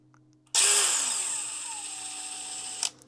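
A DeWalt DCF922N 18V brushless impact wrench undoing a nut starts abruptly with a loud high whine, then its pitch drops and steadies for about two seconds before it cuts off cleanly, close and alone.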